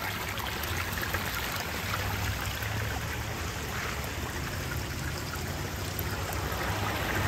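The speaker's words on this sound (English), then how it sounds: "Tiny little stream on the Aqua 45 basin." Small rock water feature beside an Aqua 45 pond basin in a display garden, with a tiny stream trickling and bubbling in a constant, close, steady babble and no voices.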